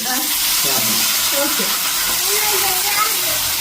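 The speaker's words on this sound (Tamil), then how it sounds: "இப்போ வர எண்ணெயில் போட்டு பொரிச்சு சாப்பிட்றதுக்கு ஒரு பிளான் வந்து போட்டிருக்கோம்" Food frying in hot oil makes a loud, steady sizzle and hiss close by, while a voice talks over it.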